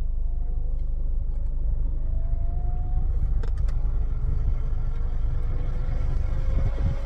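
The AC blower fan in a 2008 Nissan Qashqai J10 runs as a steady, loud airy whoosh with a low rumble, with no voices over it.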